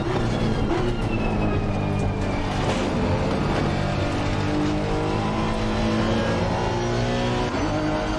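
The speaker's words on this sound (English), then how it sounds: "I was running NSX Super GT on the Assetto Corsa" Honda NSX Super GT race car in Assetto Corsa, its engine roaring loud and close, revving up and down through gear changes with brief tyre squeal, no voices.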